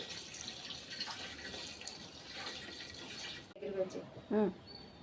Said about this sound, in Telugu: ఈ గ్లాస్తో గ్లాస్ వాటర్ వేసాను